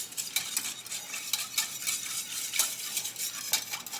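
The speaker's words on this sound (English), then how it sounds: "I'm just going to get my whisk, and I'm going to whisk everything together." A whisk beats a crockpot sauce containing Worcestershire sauce, producing quick rhythmic scraping strokes against the bowl that repeat steadily at close range, with no one talking.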